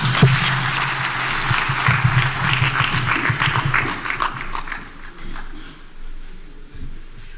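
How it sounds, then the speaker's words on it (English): A stakeholders' meeting audience applauds President William Ruto of Kenya, a loud burst of many hands clapping at once that thins and fades toward the end. "May we appreciate His Excellency with a more heartier clap"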